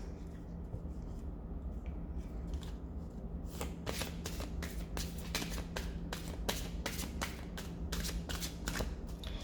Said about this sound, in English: I'm just shuffling it a little bit and then clearing the cards